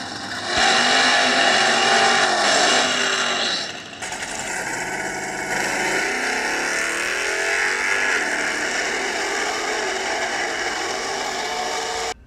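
Drag racing cars roar down the strip, a small block Chevy among them, with a loud, sustained engine rush that dips briefly and then carries on as a steady, slightly fading drone.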